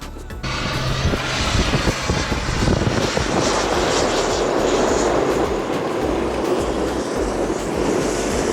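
Airliner descending to land low over Maho Beach on St Martin, heard from a boat offshore as a steady, broad roaring engine rumble that swells in after a moment and holds loud throughout, no talk.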